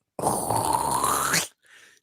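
A human voice imitates canned cranberry sauce sliding out of a can, producing one close, drawn-out, gurgling groan of just over a second that rises in pitch, followed by a brief fainter tail.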